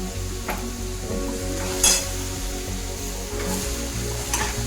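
Chutney ingredients fry in a little oil, giving a steady low sizzle with stirring scrapes and a brief clatter near the middle. No talking.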